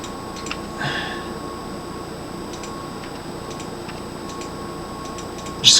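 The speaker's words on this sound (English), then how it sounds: "Just keep clicking." Computer mouse clicking in short, sparse, faint ticks over a steady background hum, with one louder click burst at the very end.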